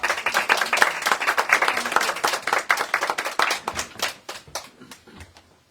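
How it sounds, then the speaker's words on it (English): Audience at a storytelling event applauding for Barbara as she comes up, a burst of brisk close clapping that gradually thins out and fades to quiet. "Let's give her a round of applause."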